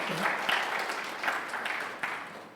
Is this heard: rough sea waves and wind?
no